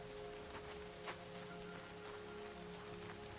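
Rain falls steadily in the Horizon Zero Dawn game world as a soft, even patter of drops under a low hum, faint and without talk.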